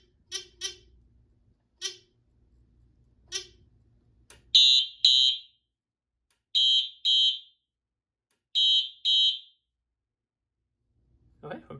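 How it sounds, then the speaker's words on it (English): Simplex 4100+ fire alarm system with addressable TrueAlert horns sounding in full alarm: several loud, close pulsed horn blasts in a repeating pattern, with quieter, sparser blasts in the first stretch. "So now let's get out of walk test and we'll sound this in full alarm."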